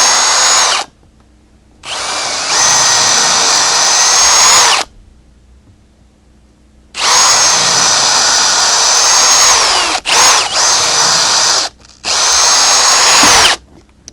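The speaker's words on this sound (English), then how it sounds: "each bit that I drill through is going to be a little bit shorter and a little bit shorter" A power drill bores holes through wood for an apple press, running in several loud sustained bursts of a few seconds each, separated by brief pauses as successive bits are used.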